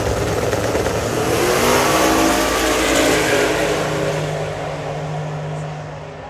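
Kenda 660 class race cars run down the track at The Bend Motorsport Park, a loud, sustained engine roar with a steady pitched drone that eases slightly as it recedes.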